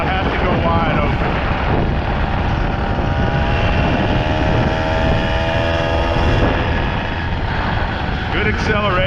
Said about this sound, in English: Little old motor does good.